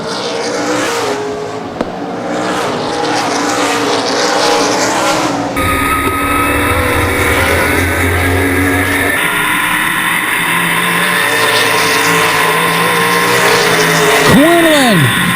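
Race cars compete in the 2015 ARCA/CRA Super Series Summit City 100 at Baer Field Speedway, loud and continuous engine roar with shifting tones, and a car whooshing past near the end with a falling pitch.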